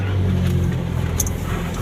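A used ex-taxi car's engine runs smoothly during a road test after a quality-control check at a used-car showroom: a steady, close low rumble that stays even throughout, with no voices.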